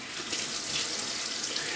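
Running tap water splashing steadily into a sink as hands are wetted to dampen the face before shaving, a close, continuous broadband hiss with no talk.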